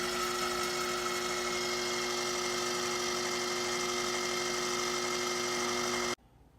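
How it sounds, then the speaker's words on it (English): A food processor blending hummus with lemon juice and tahini, a loud continuous motor whir with a steady pitch that stops abruptly near the end, leaving quiet. "we're going to close the lid and blend or process for about 1 minute until it's nice and creamy"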